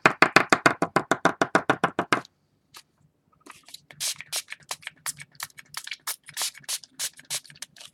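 A quick run of sharp, evenly spaced taps on a chipboard panel, then a pause and a looser scatter of lighter knocks and clatter.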